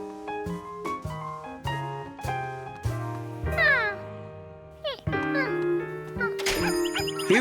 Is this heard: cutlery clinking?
no